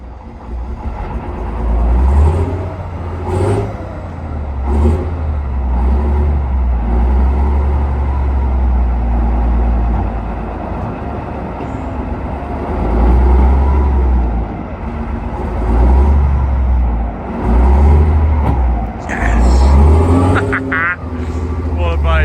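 A long-idle military tank engine, brought back to life after 30 years, revs in loud, deep, rumbling swells that rise and fall several times, with people talking over it.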